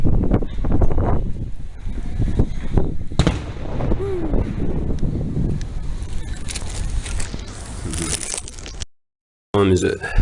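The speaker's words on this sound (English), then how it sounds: "Someone's having a private firework display." Fireworks crack and boom repeatedly at night in Thailand, a dense irregular barrage of bangs with some distance to it, voices talking underneath, then a sudden cutoff near the end.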